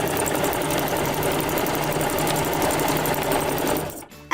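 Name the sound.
sewing machine stitching a straight line and backstitching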